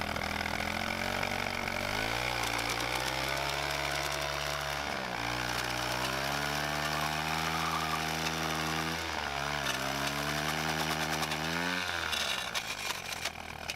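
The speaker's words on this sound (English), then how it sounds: "Let's see if we can do a burnout." An upgraded, high-torque, chain-driven electric scooter attempting a burnout, its motor whining loudly as it surges up and down in repeated revs, with a gritty rattle and scrape beneath the whine.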